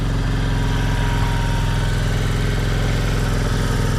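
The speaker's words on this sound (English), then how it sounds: "535 V2 engine. It has a pretty decent sound to it" A Yamaha Virago 535 V2 cruiser motorcycle engine idles steadily nearby, a continuous low, throbbing V-twin rumble with even pulsing and no talk over it.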